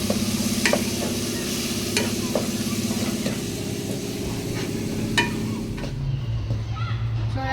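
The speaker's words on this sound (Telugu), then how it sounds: "మనం వేసిన పేస్ట్ ఇది సిమ్లో పెట్టి బాగా ఫ్రై చేసుకోవాలండి" Tomato masala paste with green chillies fries in a pan on low heat, a steady loud sizzle broken by repeated scraping stirs and spoon clinks, with faint background voice.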